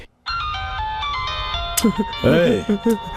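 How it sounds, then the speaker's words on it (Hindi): A telephone plays a bright melodic ringtone, its repeating electronic notes loud and near, while voices begin talking over the final seconds. "फोन उठाओ।"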